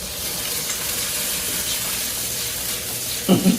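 Squash and vegetables sizzling in a hot pan, a steady close hiss of frying with a brief clatter near the end.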